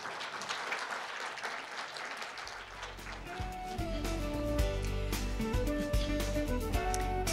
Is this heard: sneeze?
no